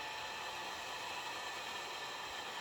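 A heat gun blows a steady, even hiss of hot air onto tint film on a Tesla Model 3 taillight. It is close and continuous, with no talk over it.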